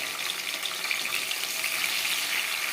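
Grated ginger, garlic and green chili paste sizzles steadily in hot oil with lightly fried potatoes, a close, continuous crackling hiss with no talk over it.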